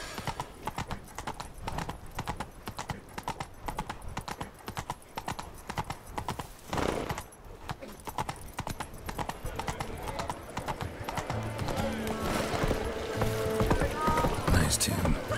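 Roach, a horse in The Witcher 3, gallops in a steady, fast clip-clop of hooves throughout, with game music and occasional voices mixed in, growing busier toward the end.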